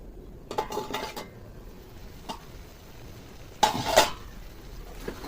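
A metal pot of crab curry with bottle gourd and potato gets covered with its lid, a few quiet clinks early on followed by a louder clattering clank as the lid settles, otherwise quiet.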